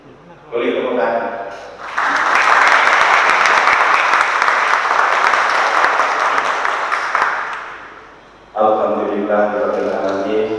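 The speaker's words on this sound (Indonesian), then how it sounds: "Boleh tepuk tangan." Students and officials applaud at a regional parliament office in Bondowoso, a loud sustained burst of clapping that swells and then fades, with a voice speaking briefly before and again after it.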